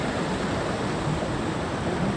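A small waterfall in a rocky canyon at Capitólio rushes as a steady, even wash of water noise, close and constant, with no voices.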